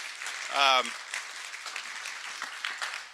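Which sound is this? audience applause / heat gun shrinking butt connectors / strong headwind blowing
audience applause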